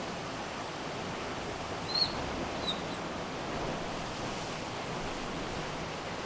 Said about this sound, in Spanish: se aprecia ahí el mar cuando entra, nos salpica